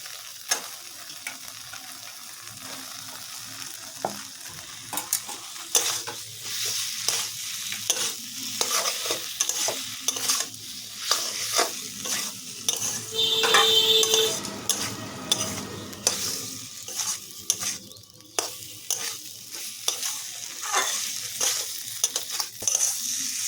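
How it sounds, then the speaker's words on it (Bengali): Potato pieces fry in a spice masala and are stirred steadily, with repeated spoon scrapes and clinks over a constant close sizzle, no voices. "ভালো করে আলুটাকে কষিয়ে নেব।"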